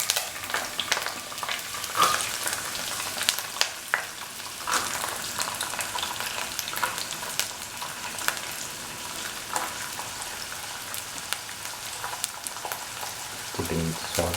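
Garlic sizzles and crackles in heated oil in a pan for a homemade garlic pickle, a steady bright frying hiss with scattered pops and occasional stirring scrapes, fairly close.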